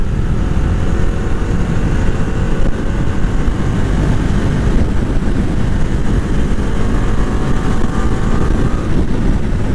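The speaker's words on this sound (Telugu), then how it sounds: "రేజ్ ఇచ్చి చూద్దాం" A motorcycle engine is revved on a test ride, giving a loud, continuous, close engine roar that holds steady throughout with no talk.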